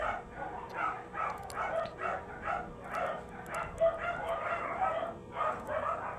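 Several dogs bark in repeated bursts at a moderate distance, the barks overlapping in an irregular rhythm against a quiet outdoor background.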